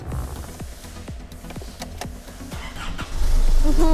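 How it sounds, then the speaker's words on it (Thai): A 2014 Isuzu MU-X 3.0 SUV with automatic transmission starts up: steady rhythmic cranking ticks, then the engine catches and settles into a louder, steady idle close by. "เดี๋ยวสตาร์ทเครื่องกัน นิดนึง"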